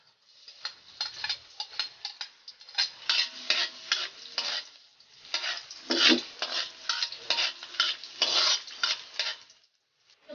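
Garlic sautés in a pan for pork menudo, with a steady sizzle under rhythmic, busy scraping and clinking as it is stirred, close and fairly loud throughout, with no talking.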